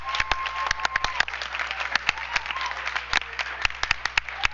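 A school board meeting audience gives award recipients a round of applause, with scattered, uneven claps that sound moderately close in a room.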